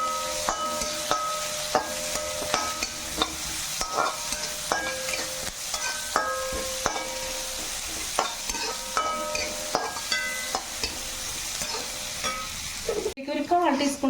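Big chopped onions being sautéed in a hot pan, a steady sizzle broken by regular scraping stirs of the spatula, close and continuous with a brief clatter near the end.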